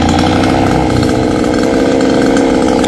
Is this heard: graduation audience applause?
no